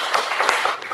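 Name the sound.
congregation clapping for the clergy in church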